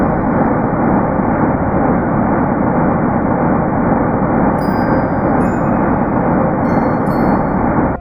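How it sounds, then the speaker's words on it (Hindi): A sonified rendering of the cosmic microwave background, the universe's oldest sound, plays as a dense, loud, unbroken roar of broadband noise, steady throughout with no speech. "यह है ब्रह्मांड की आवाज।"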